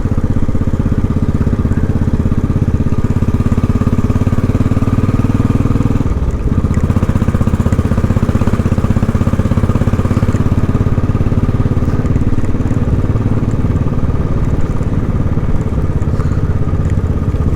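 Royal Enfield Classic 500 motorcycle engine while riding, a loud continuous thumping single-cylinder drone with steady low rumble and wind roar, holding constant apart from a brief dip partway through.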